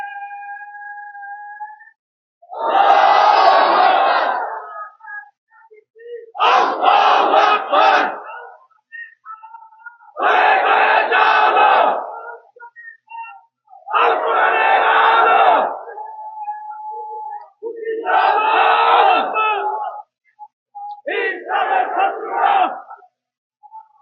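A large crowd chants the takbir in loud, unified bursts, six call-and-response waves separated by short pauses, with a lone voice leading between them at a religious rally.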